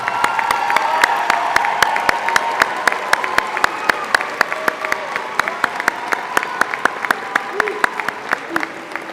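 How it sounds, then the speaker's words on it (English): Sustained applause from a graduation ceremony crowd at a STEM high school, dense clapping continuing steadily for several seconds with sharp individual claps standing out, fairly close and loud. "Please join me in applauding our final group of graduates."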